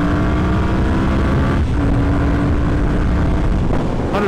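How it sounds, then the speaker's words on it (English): Ducati Monster 1100S motorcycle engine pulling hard up a ramp, then dropping a gear, its steady loud drone blended with heavy wind rush across the whole stretch. "Get a little power pull up the ramp here. Catch a little downshift."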